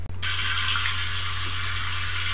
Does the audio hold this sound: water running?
yes